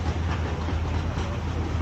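A tourist train rolls past in Iguazu Falls park, a short, continuous rumble with a steady low clatter, heard alone.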